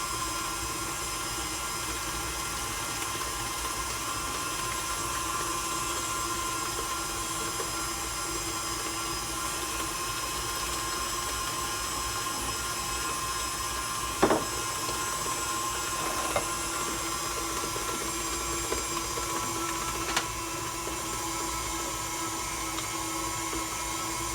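Electric mixer beating eggs into pound cake batter for a peach cobbler pound cake, a steady continuous motor whine throughout with a few faint knocks against the bowl.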